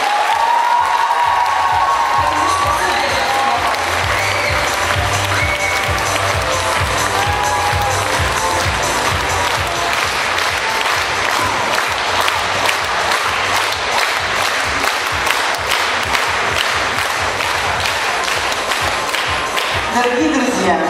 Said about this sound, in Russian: Ирина Викторовна, вам наши аплодисменты.